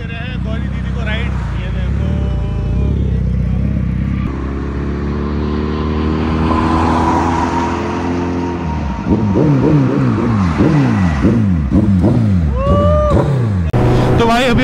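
A Suzuki Hayabusa superbike carrying a rider and passenger hums along steadily, then its engine note climbs and falls through a series of revving gear changes, loud and close throughout.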